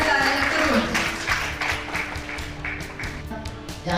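An audience claps in welcome at a women's gathering in a school hall, the patter of hands running steadily through the whole stretch over a faint tonal background.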